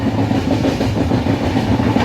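The Kamrup Express rumbles steadily on the Howrah to New Jalpaiguri line in the rain, with a rhythmic clatter of wheels on track, continuous and close, with no voices.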